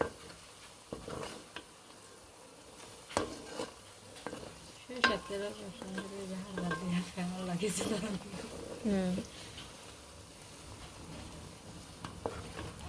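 Whole bay leaves, cloves, cardamom and cinnamon frying in hot oil, giving a steady close sizzle with bursts of crackling and stirring clatter, while a voice talks over it.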